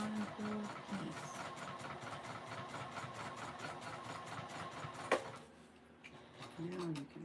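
A sewing machine runs steadily while stitching across the bottom of a bag, a dense even mechanical whir with rapid repeating ticks. It cuts off abruptly near the end, then faint handling noises follow, and short voice-like tones can be heard.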